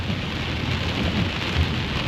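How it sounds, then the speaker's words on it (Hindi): Heavy monsoon rain pours down at Hampi in Karnataka, a loud, continuous close roar with low rumbling underneath and no voices. "बहुत तेज बारिश हो रही है।"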